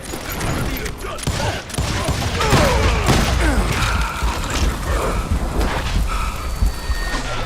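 Gunfire in the Western shooter Call of Juarez: Gunslinger, a loud flurry of shots mixed with clicking gun mechanisms and ratcheting metal that runs continuously throughout.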